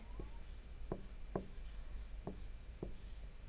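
Chalk or marker strokes on a board from a Hindi-language lesson on the past tense: five or six short, distinct scratching taps spaced irregularly against a low room hum.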